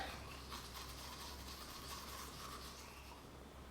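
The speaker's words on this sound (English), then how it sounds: "I just want to show that you can just use a regular toothbrush." Manual toothbrush scrubbing teeth, a continuous quiet bristly rubbing that stays steady and close throughout, with no voices.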